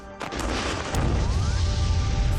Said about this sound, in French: Ça, c'est ce qu'on appelle une explosion.